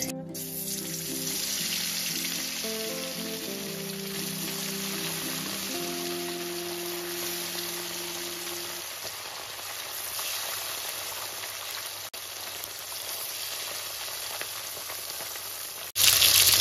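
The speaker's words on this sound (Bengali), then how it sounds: "এবার এক এক করে হলুদ লবণ মাখানো মাছগুলো ভেজে নেব।" Bele fish coated in turmeric and salt sizzle in hot oil with a continuous crackling hiss. Faint musical tones sit underneath at first, and a sharp noise comes near the end.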